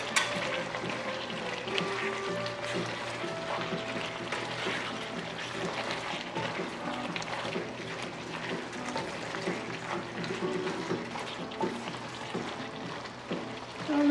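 Scallions sizzle in a hot pan with beef flank bulgogi, a steady, dense frying hiss running throughout with faint clinks and stirring.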